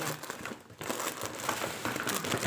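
A plastic packet crinkles and rustles close by in irregular bursts, handled for a few seconds without anyone speaking.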